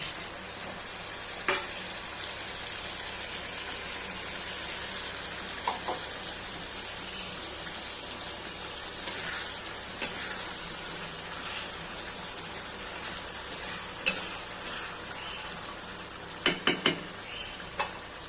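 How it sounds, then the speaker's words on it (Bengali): Potatoes and onions fry in oil in a pan with a steady, close sizzle, broken by occasional sharp clicks of a spoon scraping and stirring against the pan. "আলু আর পেঁয়াজটা ভাজা ভাজা একটু করে নিয়ে মশলাগুলো এক এক করে অ্যাড করবো"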